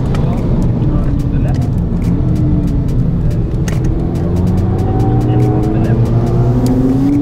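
A 2018 Volkswagen Polo GTI accelerates hard on a test drive, the engine note climbing steadily in pitch from inside the car, with a voice talking over it.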